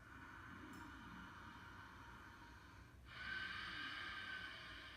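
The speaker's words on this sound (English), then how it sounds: "So that would be Ujjayi breathing." A slow, hissing ujjayi yoga breath drawn through a constricted throat, close and soft, swelling into a steady rushing, ocean-like tone with no talking.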